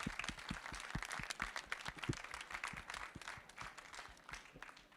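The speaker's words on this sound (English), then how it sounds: "Can we just give an enormous round of applause to both Rufus and Bayang?" An audience at an education keynote claps for two young presenters, a moderately distant, dense spread of applause with individual claps audible, holding steady throughout.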